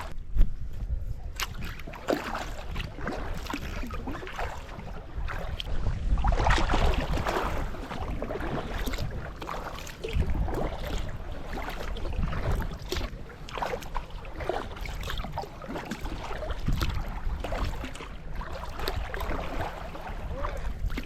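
Kayak paddling off Assateague Island, with steady water swishes and splashes under a broad wash of wind, continuous and fairly close.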